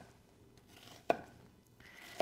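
Knife chopping into an onion on a cutting board while dicing it for egg fried rice, two crisp isolated cuts landing about a second apart, quiet and close.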